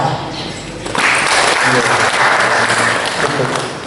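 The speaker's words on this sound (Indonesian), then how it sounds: "Tepuk tangan." Applause from the audience at a village gathering on interfaith harmony in Baleharjo, Wonosari, swelling after a quieter start into loud, dense clapping that carries through to the end.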